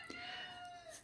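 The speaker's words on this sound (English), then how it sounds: "the Rooster, for those of you who are wondering what that sound was." A brief fragment of a rooster's crow, a strained, tonal call heard up close.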